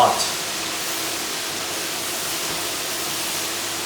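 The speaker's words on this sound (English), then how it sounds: "It's bubbling a lot" Pork ribs coated in egg deep frying for Cantonese garlic ribs, with hot oil bubbling in a steady, dense, close hiss that holds even throughout.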